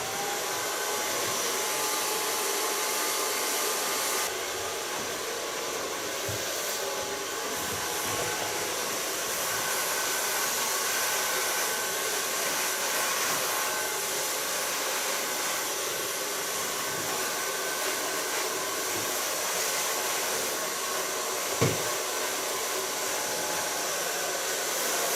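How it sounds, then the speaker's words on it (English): Hair dryer blowing steadily and loudly while a bob haircut is blow-dried with a medium round brush, a continuous airy roar with no talk. "Start blow drying with a medium brush."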